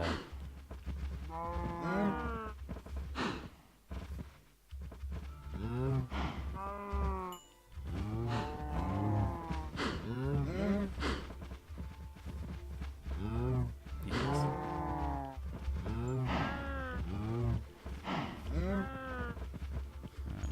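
Minecraft cows, both baby and grown-up, moo repeatedly in short rhythmic calls throughout, fairly close and steady over a constant low hum, with no one talking.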